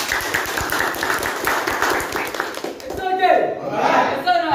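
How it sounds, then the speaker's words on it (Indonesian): Applause for Mr. Nusari at a company promotion ceremony for a new assistant manager and marketing manager: a room of people clapping steadily for a few seconds, mixed with talk, before the clapping fades and speech takes over. "Kasih aplaus untuk Mr. Nusari."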